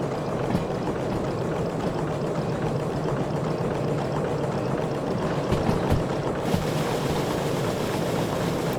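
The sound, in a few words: water pouring in Derail Valley video game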